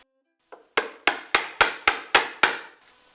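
Mallet blows on a chisel chopping through a wooden mortise by hand, about seven sharp, evenly spaced strikes heard close and alone, each with a short woody ring.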